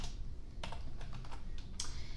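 Soft, irregular clicks of typing on a computer keyboard during a web search, a handful of quiet keystrokes spaced apart over a steady low background hum, with no voices.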